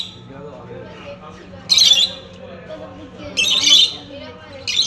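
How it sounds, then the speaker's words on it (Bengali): Harsh, raspy squawks from caged birds at a resort entrance in Mandarmani burst out twice, then a third begins, each lasting about a second over a low steady background hum. "ঢোকার মুখেই কিছু পাখি রাখা আছে"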